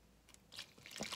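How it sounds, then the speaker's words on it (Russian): Warm water poured into a bowl of yeast and sugar for no-knead French bread dough, a soft, quiet trickle and splash that builds toward the end. "И добавляем нашу воду."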